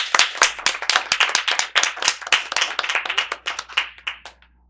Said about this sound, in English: All right, let's give our candidates a round of applause.